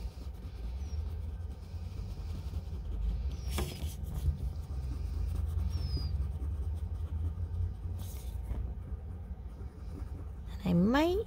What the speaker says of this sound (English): I like to spin my paper when I'm coloring in a circle too